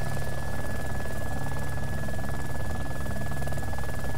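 A helicopter in the video game DayZ Epoch drones steadily with a continuous rotor thrum, moderately loud and unbroken, with no speech heard.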